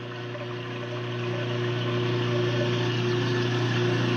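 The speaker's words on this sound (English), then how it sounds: "I have to turn on the garbage disposal unit." A kitchen garbage disposal unit runs with a steady, close mechanical hum and grinding drone that swells slightly and holds for a few seconds, no talking.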